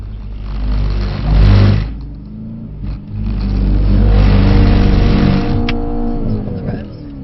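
Mercedes car engine revving on a race track, a loud sustained roar that swells, dips briefly and climbs again, with a voice speaking over it.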